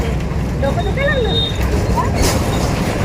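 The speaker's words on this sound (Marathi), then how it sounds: "आपण लालपरीमध्ये आहोत ना लाल लालपरीचा आवाज येतो" Inside a red MSRTC state transport bus on the move, a loud, steady engine and road rumble fills the cabin while people talk over it.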